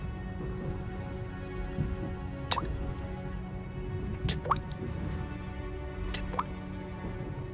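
Blood drips from hands into a small puddle. Three soft, distinct drops land about two seconds apart, faint against a quiet low hum.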